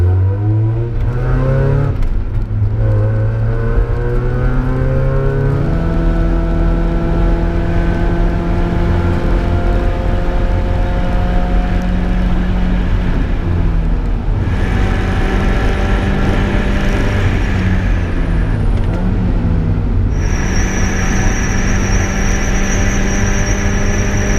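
A home-built track car, a C5 Corvette Z06-style build, drives a track session: loud engine revving steadily through gear changes, pitch climbing and dropping as it accelerates and shifts, with a brief tire squeal, continuous and close.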